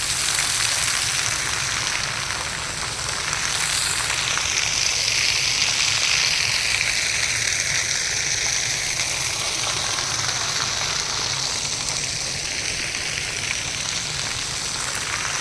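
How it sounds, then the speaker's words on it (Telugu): Water splashes from a fountain at Rashtrapati Nilayam in Hyderabad, a dense, continuous hiss of falling spray heard close and steady with no talking. "ఇది వాటర్ ఫౌంటైన్ ఒకటి చాలా బాగుంది."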